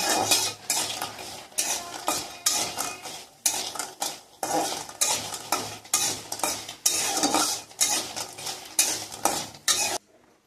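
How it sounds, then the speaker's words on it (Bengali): Lentil dumplings (bori) frying in about three spoons of oil in a pan, stirred with a metal utensil that scrapes and clatters in a steady rhythm of repeated strokes over a low sizzle, close and alone. "বড়িগুলোকে নাড়াচাড়া করে আমি ভেজে নেব।"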